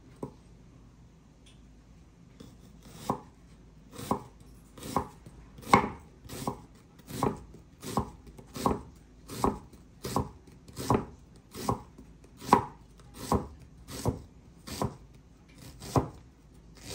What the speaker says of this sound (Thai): ซอยหอมเติมอีก